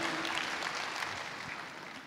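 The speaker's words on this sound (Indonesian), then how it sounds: "Tepuk tangan untuk sang ketua dan para pengurusnya." An audience applauds a chairman and committee at a gathering, a dense wash of clapping that stays steady and slowly fades over about two seconds.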